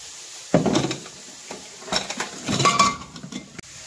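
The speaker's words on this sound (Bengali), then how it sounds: "উচ্ছেটাকে ভালো করে একটু ভেজে নিয়ে তারপরে বেগুনটা দিয়ে নুন আর একটু হলুদ দিয়ে ভেজে নিচ্ছি" Bitter gourd and eggplant fry with salt and turmeric in a pan as a spatula scrapes and clatters against the metal in irregular bursts, with only a faint sizzle underneath.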